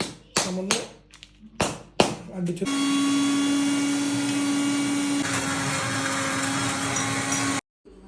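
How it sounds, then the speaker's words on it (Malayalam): After a few sharp taps and knocks, a mixer grinder blending a fruit shake with almonds and cashews whirs loudly and steadily for several seconds, its tone shifting partway, then cuts off abruptly. "ഇനി ഇതെല്ലാം കൂടി മിക്സിയിലിട്ട് ഒരടി അടിച്ച് കഴിഞ്ഞിട്ടുണ്ടെങ്കിൽ നമ്മുടെ ഷേക്ക് റെഡി കേട്ടോ"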